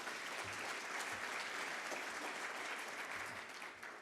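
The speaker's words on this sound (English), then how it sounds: "Can we please give a warm round of applause to our" A forum audience applauds its panelists with a steady, full round of clapping from many hands in a large room, even and sustained before tapering slightly at the end.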